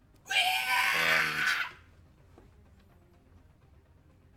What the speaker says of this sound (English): the owlbear looks at him and lets out a screech, like you heard before